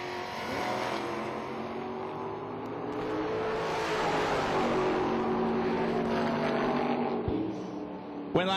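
Drag racing cars at a Kentucky bottom bulb event, a Chevy Nova and a Mustang, roar loudly as they launch and accelerate down the strip together, a sustained engine howl heard from near the track.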